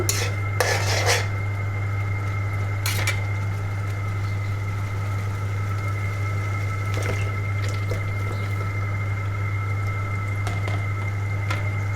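Chicken is stirred into a cooked-down spice paste in a pan, giving a few brief scraping clatters of utensil on metal over a steady low hum.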